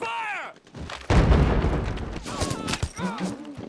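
Gunfire and explosions from a Band of Brothers WWII episode, with heavy blasts and bursts of rifle fire under shouted voices and a whistling sound.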